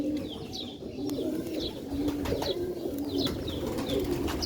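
Sialkoti pigeons coo repeatedly at close range, soft rolling calls recurring in a loose rhythm over a steady low background hum, with no talking.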